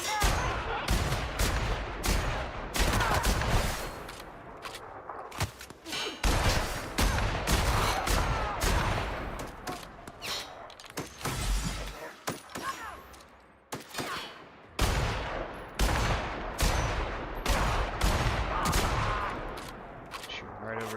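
Gunfire in The Outer Worlds video game, dense and sustained with heavy overlapping shots and bursts, loud and close, a voice occasionally talking over it.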